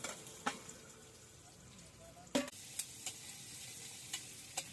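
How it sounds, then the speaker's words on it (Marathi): Chopped onion roasting in a pan, with a steady low sizzle and a few scraping stirs and clacks of the spoon, heard close and faint with no voices. "चांगला हलवून कांदा भाजून घेऊ."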